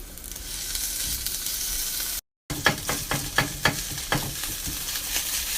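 Ground meat returned to a hot pan of caramelized onions sizzles in a steady, loud hiss, broken briefly by a moment of silence and then punctuated by sharp clicks and scrapes of the utensil breaking it into crumbles.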